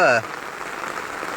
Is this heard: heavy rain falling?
yes